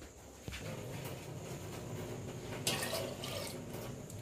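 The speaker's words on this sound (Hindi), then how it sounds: "पानी और ऐड करेंगे हम।" Water pours from a tap into a pot of soaked chickpeas in a home kitchen, giving a steady, soft splashing stream with a small knock near the start and a brief louder gush near the end, faint and close.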